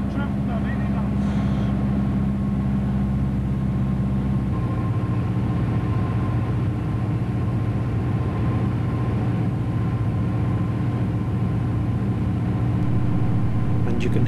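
A Piper PA-28R Arrow in flight with its undercarriage down gives off a steady engine drone. Wind rushing past the wheels adds a continuous whistling hiss, and the tone shifts slightly after a few seconds.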